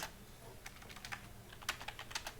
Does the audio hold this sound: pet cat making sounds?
no